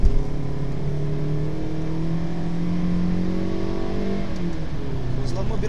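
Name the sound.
Toyota Yaris 1.33 accelerating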